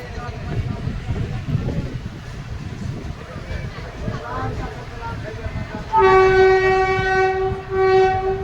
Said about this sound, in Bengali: দুপুরে একটা বেজে পাঁচ মিনিটে কাটোয়া থেকে ট্রেন ছেড়ে দিয়েছে